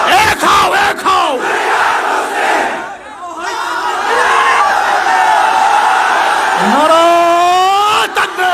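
A large crowd at a religious gathering roars a chanted response to a takbir call, many voices shouting in unison loudly and close, with a lead voice calling out between the swelling group shouts.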